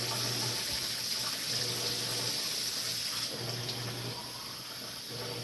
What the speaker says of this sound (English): I'm putting hot water to get it started.